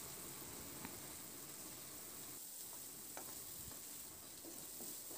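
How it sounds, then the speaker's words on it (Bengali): Small chopped shrimp frying in oil, a faint, steady low hiss of sizzling with occasional soft taps and scrapes of stirring, no voices. "মিনিট 2-3 নাড়াচাড়া করে দেখুন চিংড়িটাকে ভেজে নিয়েছি।"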